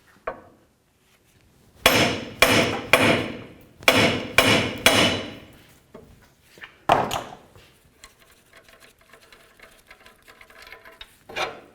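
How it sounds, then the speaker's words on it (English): A hammer strikes a tie rod end on a 1999-2007 Ford F-250 to separate it, six loud sharp metallic blows in quick rhythmic groups, then a final hit and clattering handling noises. "I'm going to hit right along here with my hammer and try to separate it."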